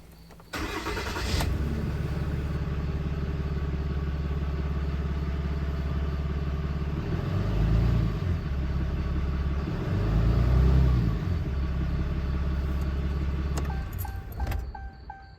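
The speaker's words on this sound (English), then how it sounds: "what do you say we check it with the engine on?" A car engine starts and settles into a steady, low idle rumble that runs throughout, swelling slightly twice before cutting off near the end.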